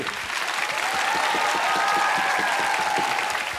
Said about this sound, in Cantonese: 掌聲